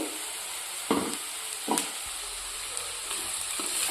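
A carrot and peanut fry with coriander seeds and green chilli is stirred in a pan, with a steady sizzle broken by a few scraping strokes of the spoon, close by and with no talking.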